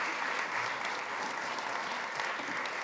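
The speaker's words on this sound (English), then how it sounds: "Give them a round of applause." Audience clapping steadily at a food summit panel at SXSW, a dense even patter of many hands that stays at one level for the whole stretch, heard from a distance with no talking over it.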